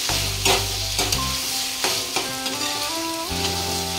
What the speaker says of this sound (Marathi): थोडासा बारीक गॅस करते मी आणि छानपैकी टोमॅटो भाजून घ्यायचा आहे